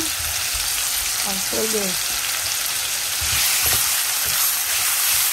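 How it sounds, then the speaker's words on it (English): Garlic and onion fry loudly in a pan for Guyanese-style corned beef and rice, a dense continuous sizzle that swells near the end, with a few brief spoken words over it. "I'm gonna add the garlic and the onion. I'm gonna let it fry a little"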